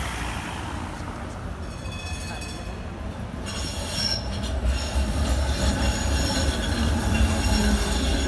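A tram rolls through Amsterdam's city streets, its steady rumble of wheels on rail swelling as it passes nearby, with metallic squeals ringing over the traffic noise.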